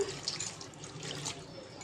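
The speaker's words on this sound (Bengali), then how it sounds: "একটু পানি দিয়ে দিলাম" Water splashes into a pan of frying onions with cardamom, cinnamon and bay leaf for a spicy chicken and potato curry, giving a brief close gush and spatter that fades quickly, with no talking.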